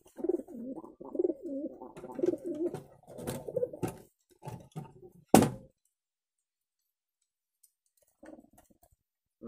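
Pigeons cooing in low, rolling bursts close by, followed by clicks, a sharp knock and then near silence with a faint coo near the end.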